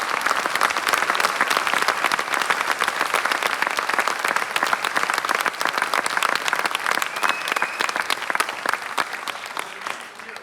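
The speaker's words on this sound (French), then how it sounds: "On peut les applaudir très fort." A theatre audience claps warmly and continuously for the performers after a reading, a dense, steady roar of applause that fades slightly at the end.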